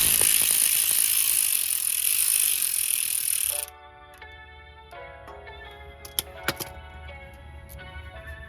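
Ratchet turning out an 8mm bolt beside the rotor while replacing a wheel speed sensor on a Mercedes R350, a loud whirring spin that gives way to slow, distinct clicking of the pawl, close up with no talk.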